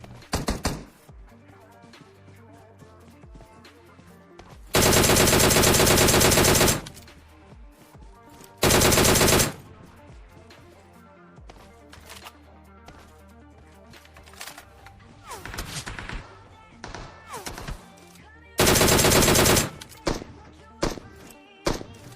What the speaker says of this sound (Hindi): सामने वाले बर्न हाउस से एक बंदा SKS चला रहा होता है